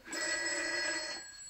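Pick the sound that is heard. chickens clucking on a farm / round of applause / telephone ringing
telephone ringing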